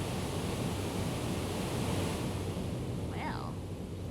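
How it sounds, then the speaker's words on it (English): Steady broadband rush of a waterfall in a video game on a shoreline, loud and continuous throughout, with a brief faint warbling cry near the end. "It was definitely a waterfall"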